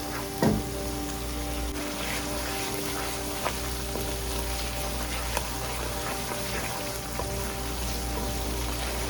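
Masala frying in oil for a Sindhi fish curry with potatoes, stirred steadily: a soft continuous sizzle with a few light scraping clicks from mixing, close and moderate in level, no talking.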